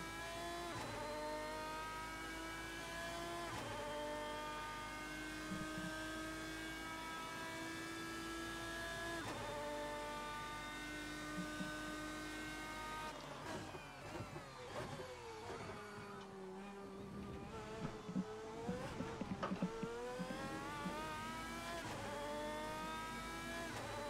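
Simulated car engine in Assetto Corsa, a steady harmonic whine rising and falling through the gears as the throttle is pushed too eagerly, then wavering and climbing again, continuous and fairly loud without talk.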